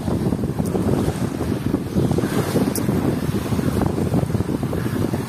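Wind gusting and surf rolling in at Batu Ferringhi beach on Penang island, as the Andaman Sea tide comes in. Steady, dense roar of waves with buffeting wind against the microphone throughout, with no voices.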